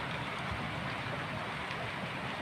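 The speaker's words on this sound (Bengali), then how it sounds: "দেখেন কত বৃষ্টি অনেক বৃষ্টি" Heavy downpour in Narsinghdi district, Bangladesh, falling near a home as a steady, dense broadband hiss with no breaks, moderately loud and continuous throughout.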